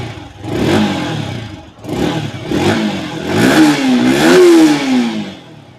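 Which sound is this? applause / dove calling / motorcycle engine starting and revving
motorcycle engine starting and revving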